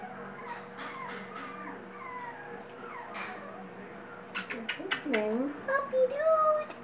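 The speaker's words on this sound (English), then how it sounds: "Puppy dudes, puppy dudes. Hi, puppies." Mini Australian Labradoodle male puppies whimper, yip and whine in several short bursts, high and close. The cries grow busier toward the end, with a person talking softly over them.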